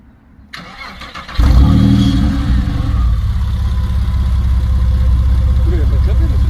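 A Porsche 911 Carrera 996 flat-six cranks briefly after some quiet, catches with a loud burst and settles into a steady, rumbling idle with no valve fitted on the exhaust, close by, while people talk faintly around it.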